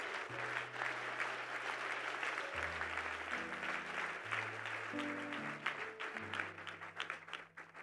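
A church congregation claps and applauds in a sustained burst during a sermon, with musical tones sounding beneath the clapping.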